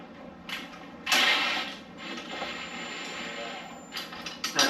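A 13mm wrench holds the self-locking nut while a Torx T30 bolt is turned on a motorcycle slip-on exhaust, giving close, intermittent metallic creaks and ratcheting clicks in a few bursts over a steady background hiss.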